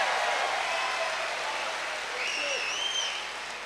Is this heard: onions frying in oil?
no